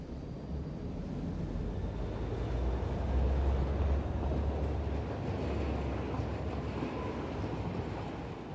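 Game train in Train Logistics Online pulling away, a steady low rumble that swells midway and holds without talk.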